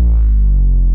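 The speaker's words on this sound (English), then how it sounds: "Here's some downers, distorted." A distorted downer effect from a cinematic trailer sound library, a loud, heavily saturated low tone that drones and sinks for about a second, alone with no voices.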